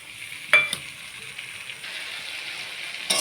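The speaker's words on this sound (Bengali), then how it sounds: "ভাজা হয়ে গেছে টমেটো আর নুন হলুদ দিয়ে" Tomatoes frying in a pan with salt and turmeric for a katla fish curry give a steady soft sizzle, broken by a couple of sharper stirring scrapes near the start and one near the end.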